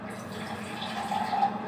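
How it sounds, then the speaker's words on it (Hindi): Hot water pours steadily into a steel pot, a continuous watery splash and trickle that swells slightly near the end, with no talking. "गर्म पानी मैंने डाला है इसमें करके"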